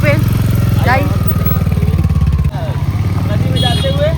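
Motorcycle engine running close by as two riders cruise around on a bike near a riverside Ganga puja spot, a steady low rumble with a gear-like shift midway, under loud chatter and voices throughout.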